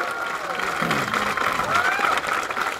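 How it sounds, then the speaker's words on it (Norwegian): Crowd applause and cheering at a strongman tire-flip competition, Rogalands Sterkeste Mann 2018, a dense continuous wash of clapping mixed with shouting voices throughout. "Få en god applaus!"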